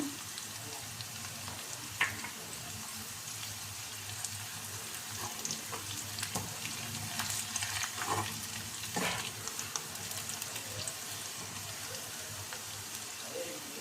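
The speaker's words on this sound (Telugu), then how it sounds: "దీంట్లో ఇప్పుడు జీలకర్ర వేద్దాము" Cumin seeds frying in hot oil for a red lentil and fenugreek leaf dal, a steady soft sizzle broken by a few sharp crackles and spoon scrapes, close and fairly quiet, with no talking.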